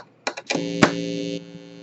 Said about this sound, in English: Then I'll show you the square wave.